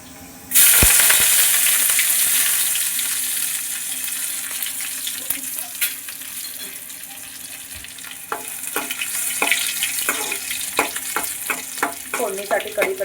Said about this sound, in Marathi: आता याच्यामध्ये मी टाकणार आहे कढीपत्ता आणि लसूण.